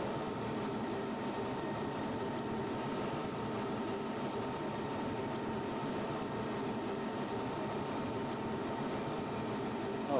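F-16 jet in flight in the Falcon BMS flight simulator, a steady engine roar and whine that is constant and unbroken for ten seconds, with no talk.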